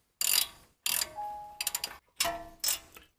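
A ratchet backs out a brake caliper bolt on a 2011 Lexus LX 570, clicking in several quick bursts of close, crisp pawl rattles separated by short pauses.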